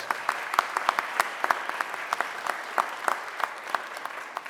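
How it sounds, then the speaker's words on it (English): An audience at a mayor's press conference applauds with steady clapping and sharp individual claps standing out, moderately close and sustained throughout. "give them a round of applause."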